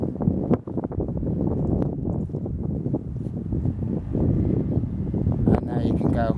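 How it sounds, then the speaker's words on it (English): Strong wind buffets the microphone with low roaring gusts throughout, continuous and close, while a DJI Phantom FC40 drone is set up outdoors. "it's quite a windy day"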